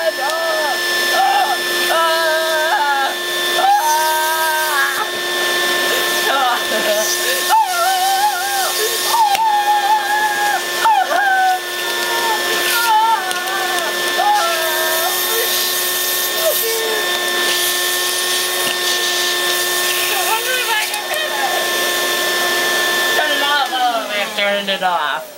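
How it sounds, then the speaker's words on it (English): A vacuum cleaner drones loudly and steadily throughout, a whining motor hum with shifting tones layered over it, up close. "It was a vacuum cleaner."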